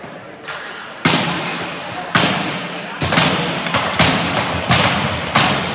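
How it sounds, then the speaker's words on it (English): Lacrosse sticks tap and bang against the rink boards before a semi-final game between two 18U teams, giving sharp, loud thuds and slams at irregular intervals under crowd murmur. "as the sticks start tapping and banging on the boards"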